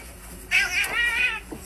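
Cat giving a single drawn-out, wavering meow close by, rising in the middle and tailing off, over a steady background hiss.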